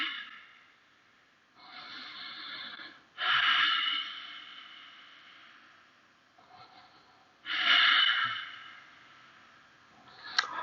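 Slow, audible breathing during a yoga backbend in a hatha session, with long airy exhales and quieter inhales in a steady, unhurried rhythm, close and alone.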